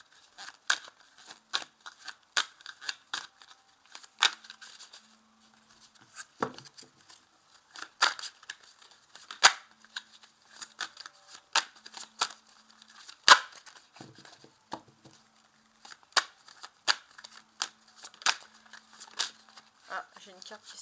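Tarot cards are handled and shuffled in sharp, scattered papery snaps and flicks, close and crisp, with someone speaking quietly between the card sounds.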